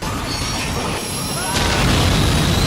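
Movie action scene of a car knocked off the road onto a moving train and carried along the rails: a loud, steady rumble of rolling train wheels and metal with a heavy crashing boom partway through.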